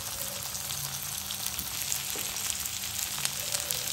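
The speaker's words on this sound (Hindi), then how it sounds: "देखिए तेल में प्याज डूबा हुआ है, इसे हल्का सा घुमा लेंगे" Chopped onion and two chillies fry gently in oil over a low flame, a steady, close sizzle with faint crackles and pops throughout and no talking.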